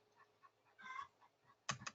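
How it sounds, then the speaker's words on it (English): Chickens clucking faintly in the background, a few soft cackles, then a louder brief scuffle or flutter near the end, with no talking. "You can hear the chickens in the background"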